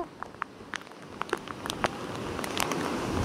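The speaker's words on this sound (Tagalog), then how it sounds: "lumakas na ang ulan" Steady rain patters on a surface, with scattered sharp drops that grow denser and louder toward the end, building into a heavier downpour.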